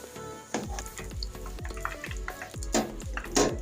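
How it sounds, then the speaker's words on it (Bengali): Potato fingers fry in hot oil with a continuous crackling sizzle, punctuated by a regular series of sharp utensil knocks and stirs roughly every half second, close and clear. "এখন আমি হালকা করে ভেজে উঠিয়ে নেব।"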